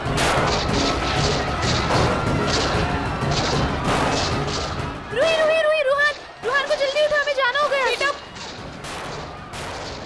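Loud bursts of gunfire crack repeatedly in a Hindi TV serial scene while someone speaks urgently, followed by wailing, siren-like tones mixed with more shots.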